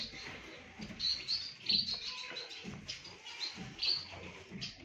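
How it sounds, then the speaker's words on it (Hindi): Small bird chirping as it is released from a box, short high tweets scattered across the moment, fairly faint amid quiet handling noises and background murmur. "ये माँ साहब ने चिड़िया उड़ा दी है"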